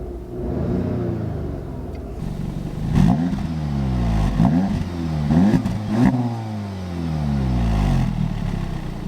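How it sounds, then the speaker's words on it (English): A stock 2016 Audi S3 in sport mode with its exhaust valves open revs repeatedly, the engine climbing and dropping in several loud, close bursts over a steady idle rumble. "Let's see how this revs."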